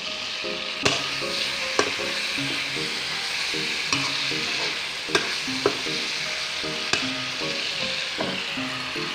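Food sizzles and crackles steadily in a hot pan, with a few sharp clinks of a utensil stirring and scraping at irregular intervals.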